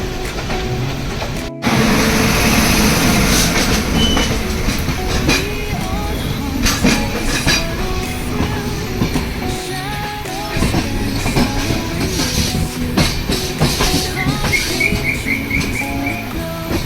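A passenger train hauled by powerful WAG diesel locomotives runs along the line, a loud, steady rumble with rail clatter and rhythmic clicks after an abrupt start, sustained throughout.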